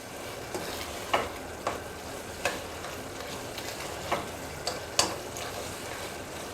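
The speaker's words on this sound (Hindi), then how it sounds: "अब हम चिकन की भुनाई करेंगे अच्छे तरीके से।" Chicken fries with whole garam masala for bhindi chicken, a steady sizzle broken by about eight sharp spoon scrapes against the pan at irregular intervals, close and fairly quiet with no talking.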